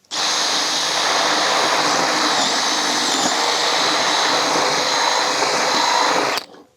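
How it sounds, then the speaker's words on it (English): A power drill with a half-inch bit bores straight through a wooden stud with a loud, steady whine and grind, running continuously for about six seconds before stopping abruptly. "Now I need to drill a straight line through this stud with a 1/2 inch"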